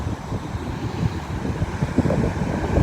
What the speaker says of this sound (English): I thought you'd appreciate the sea.